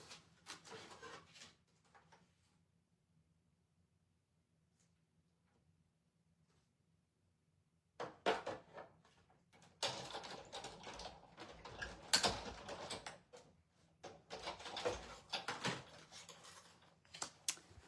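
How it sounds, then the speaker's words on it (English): Paper running through a hand-cranked embossing machine for a craft gift card holder: after a quiet pause, a close, steady mechanical crunching and ratcheting rolls on for about ten seconds. "so I'm just going to run this through my embossing."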